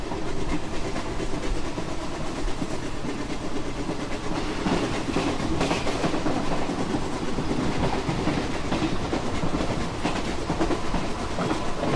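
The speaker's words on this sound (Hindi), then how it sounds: "क्या जा रही है यार ट्रेन हमारी" A train runs on rails in Train Simulator on PC, an express on the Khandesh route at speed, with continuous loud rolling clatter and hiss, rhythmic clickety-clack and no talk.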